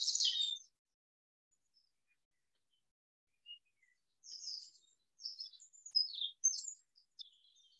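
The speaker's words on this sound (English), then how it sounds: "listen to the sounds of the birds." High, thin bird chirps come in scattered bursts, one at the start, then a quiet gap before a cluster of quick tweets, clear against near silence.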